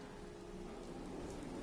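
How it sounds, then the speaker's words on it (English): Rain falling in the video game Fallout 4, a faint steady hiss of drops on surfaces, brief and distant, with no talk. "Hope this rain lets up"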